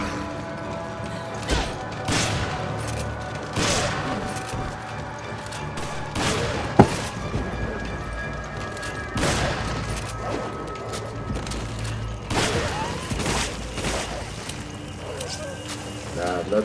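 Pistol shots ring out in Resident Evil 5, a series of sharp, loud cracks spaced a second or two apart, some close together, over game ambience and clattering action.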